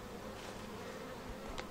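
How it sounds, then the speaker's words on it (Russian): Honeybees hum steadily around hives at a small apiary during summer colony splitting, a continuous, close, dense buzz with a few louder passes of single bees flying near. "Пчелки вообще себя ведут спокойно так."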